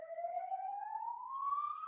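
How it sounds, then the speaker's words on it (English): An ambulance siren outside sounds one long, steadily rising wail, moderately faint and muffled as if heard from indoors, with no speech over it. "hope that ambulance is not for you"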